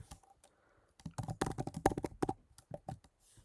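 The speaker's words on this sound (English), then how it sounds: "I'll type in my password, and I'll type in my password here." Password typed on a computer keyboard while setting up Windows servers, a quick run of close, crisp key clicks in an uneven rhythm, alone with no talking.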